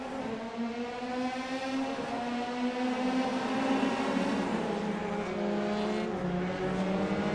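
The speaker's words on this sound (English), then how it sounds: "Everyone revs their engines, waiting for the green lights." Several race cars at the start of a Volkswagen Motorsports India racing series event rev and accelerate together, a loud layered engine drone with rising and shifting pitches, continuous and close, with no talking.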